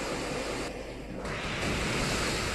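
The Waterfall attack in Pokémon Y plays as a dense, continuous rush of water like crashing surf, loud and steady throughout, with no voices.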